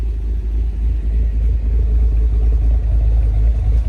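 A deep, throaty V8 engine of a cammed 2023 Cadillac Escalade V rumbles at idle steadily up close, with a slightly lopey low-end throb and no voices.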